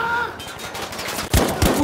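Bursts of video game shooter gunfire, several sharp shots with a heavier pair of blasts near the end, loud and close over a steady background of game noise.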